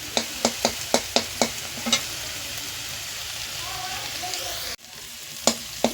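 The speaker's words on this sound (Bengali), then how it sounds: "দু তিন কোয়া রসুন দিলাম এরকম মাঝখানে এরকম নেড়ে চেড়ে ভেজে নেবো" Two or three crushed garlic cloves frying in a pan, a series of sharp scraping stir strokes over a continuous close sizzle, with a brief cut and one more stroke near the end, no talking.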